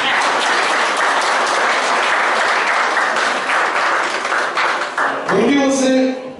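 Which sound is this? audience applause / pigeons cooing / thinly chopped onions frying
audience applause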